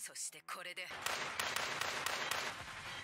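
Rapid gunfire crackles in a scene from the anime JoJo's Bizarre Adventure: Stone Ocean, a flurry of sharp shots with scattered louder cracks following a man's brief reaction over the opening.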